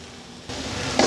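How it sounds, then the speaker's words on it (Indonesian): Oncom with spices and stock seasoning being stirred in a frying pan for spicy comro filling, a close, soft scraping and sizzle that grows louder partway through the brief moment, with no talking. "Kita aduk."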